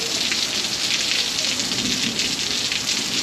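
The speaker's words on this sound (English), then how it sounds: "The rain's not bad." Rain falls steadily during a UTV ride across Wisconsin, a dense, loud, continuous hiss of drops hitting surfaces with no voices over it.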